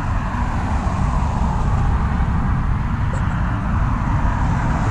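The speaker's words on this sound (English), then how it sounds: "You can hear the cars" Steady road traffic noise of cars passing heard from a bicycle, a continuous low rumble filling the background with no clear individual pass-bys.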